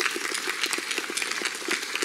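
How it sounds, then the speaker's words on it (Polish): An audience at a non-governmental organisations forum awards ceremony in Lublin breaks into brisk, dense applause, steady and fairly close for the whole stretch, with no talk over it. "Bardzo proszę jeszcze raz o brawa dla biznesu i dla samorządu."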